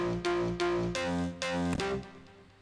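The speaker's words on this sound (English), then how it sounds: "you get a distortion, and it sounds like this" Synth with trash distortion on both oscillators playing a rhythmic sequence of buzzy, harmonically dense stabs, several notes in quick succession, gritty and alone at moderate loudness.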